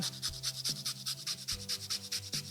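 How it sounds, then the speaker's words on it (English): Lemongrass rubbed against a kitchen grater in quick, steady scraping strokes, a close, rhythmic rasping with no talk. "Lemongrass, I'm going to do the same. Grate that."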